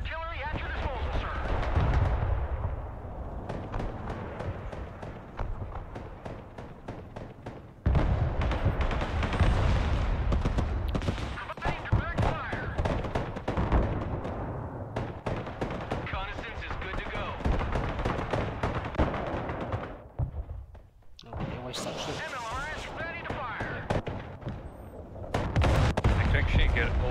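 Rocket artillery salvos and battlefield explosions in the video game Broken Arrow, a long stretch of dense rumbling booms and crackling impacts with short pauses, overlaid by frequent game voice lines and talk.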